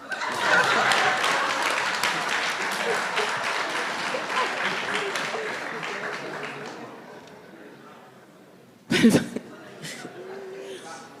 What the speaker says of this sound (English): Please be reminded to hold your applause until the judge indicates that the word is indeed correct